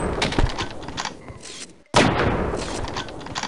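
Gunfire at moving long-range targets in the video game Half-Life: Opposing Force, a dense run of sharp repeated shots with a brief silent gap before another loud burst.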